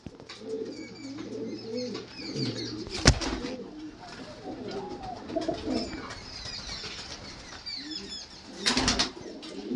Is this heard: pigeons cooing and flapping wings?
yes